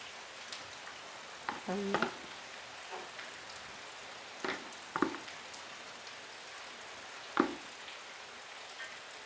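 Mango pickle masala with garlic and ginger roasts in hot oil, a faint low sizzle broken by a few scattered spoon scrapes and clinks, quiet and close.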